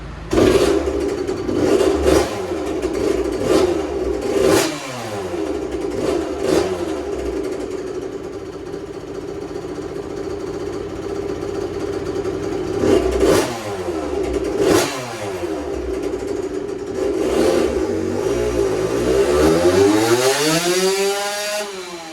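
A 2001 Suzuki RM85 two-stroke dirt bike engine on a dyno revs hard and repeatedly, with loud, close, rising and falling pulls and sharp blips over a buzzing idle.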